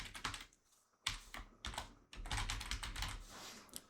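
Someone types an email address on a computer keyboard, with quick clusters of close, quiet key clicks broken by brief pauses and no talk.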